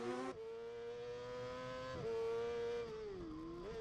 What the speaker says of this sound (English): We're riding again, and Dunlop really is closing in